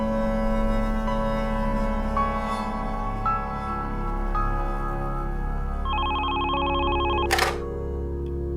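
A telephone rings with a steady electronic trill that starts late and runs for about a second and a half, over a low sustained musical drone, ending in a sharp burst.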